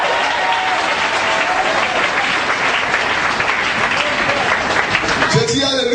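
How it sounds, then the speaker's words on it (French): A church congregation applauds loudly and continuously at a French-language service, a dense wash of clapping from many hands that fills the room, with a voice rising over it near the end. "Acclame Jésus-Christ pour ça"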